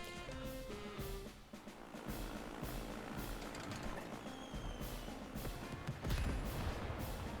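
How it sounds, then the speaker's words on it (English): Bombs strike the player's own headquarters in Advance Wars 2: a string of crackling, gunfire-like blasts over chiptune game music, ending in a heavier burst of explosions. "Fucking bombing our own HQ."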